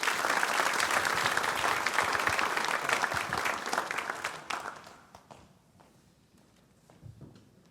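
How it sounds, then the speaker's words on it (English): Audience applause at a Young Life spring fundraiser, a dense round of clapping that holds for about four seconds, then fades into scattered claps and room noise. "So I'm gonna bring out Will Hall, and one more round of applause for Lainey."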